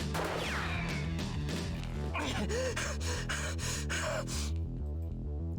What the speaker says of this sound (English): I gasp!